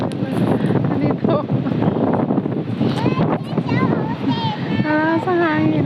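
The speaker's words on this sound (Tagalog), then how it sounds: "Lakas ng hangin dito." Strong wind gusting outdoors buffets the microphone in a constant roar while people talk over it close by.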